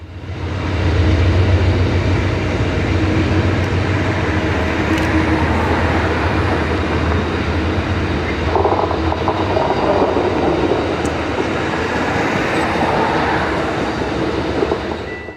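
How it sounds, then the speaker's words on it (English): Amtrak passenger Train 14 rolls westbound through the San Fernando Valley on the old Southern Pacific coast line, a loud continuous rumble of wheels on track with faint clickety-clack and occasional squeal, no voices. "as the train continues to roll along"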